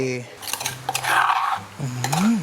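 A few sharp pounding knocks of a pestle in a mortar grinding curry paste, with light clinks, followed by someone speaking.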